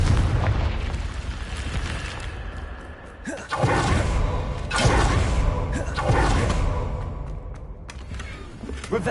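A Confringo spell in Hogwarts Legacy bursts in a series of loud booming blasts over a rumbling game soundscape, with a few sharp crackling hits between them.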